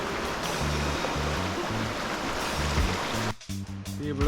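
Continuous rushing water from a flowing river in Westmoreland, Jamaica fills the clip, with a voice speaking over it near the end.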